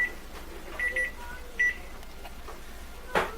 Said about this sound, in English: My timer's going off for my bread.